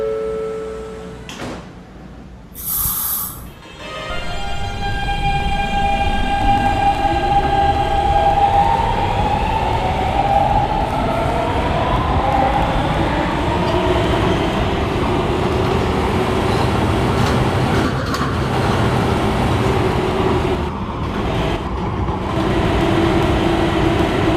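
K subway train running toward Union Turnpike, heard from the cab: steady loud rumble and wheel noise with rising motor whine, a brief door or chime tone near the start, continuous throughout.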